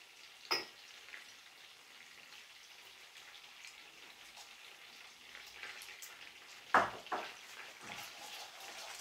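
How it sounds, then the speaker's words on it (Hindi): Butter heating in a pan with cardamom added, a faint, soft crackle and sizzle throughout, broken by two sharp clinks of something dropping into the pan; no voices. "फ्लेम ऑन करके मैंने बटर डाल दिया है पैन में। अब इसके अंदर डालेंगे इलायची"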